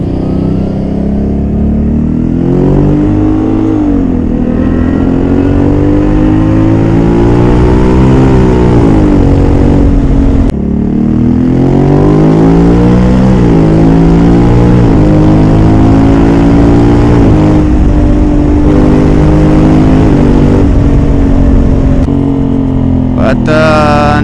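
A 2021 Honda Africa Twin motorcycle engine on a race track, loud and close, revving continuously with rising and falling pitch through gear changes and aggressive downshifts, steady throughout with a brief break near the middle.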